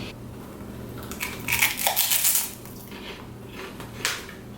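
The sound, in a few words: biting crunchy fried fish skin snack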